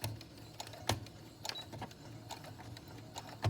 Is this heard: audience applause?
no